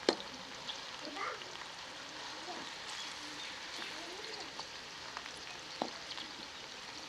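Finely chopped onions frying in hot oil, a steady close sizzle and hiss with occasional soft stirring scrapes and clinks.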